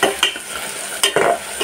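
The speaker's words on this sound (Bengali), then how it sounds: "মূলো ভাজাটা হলে মাংসটা কষিয়ে নিয়ে" Meat is stir-fried in a pan with radish: a close sizzle broken by several quick scraping stirs, loud and alone.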